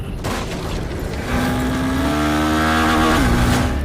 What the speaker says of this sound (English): The twist of the throttle commands pure exhilaration.